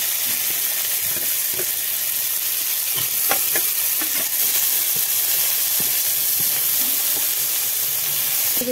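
Peanuts frying in hot oil with five-spice seeds, ginger paste and green chillies, a steady close sizzle and hiss with scattered pops and crackles throughout.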